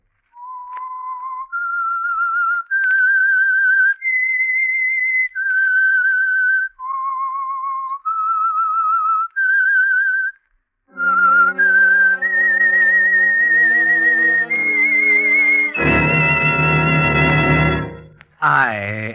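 Opening whistled theme of the 1947 radio drama The Whistler: a melodic whistled tune, a clear slow phrase of sustained notes, followed by a rising orchestral swell that ends in a loud, brassy chord.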